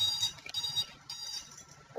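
An alarm sounds in a quiet room, a faint high electronic tone that repeats in short beeps at a fairly quick rhythm for about two seconds, with no speech.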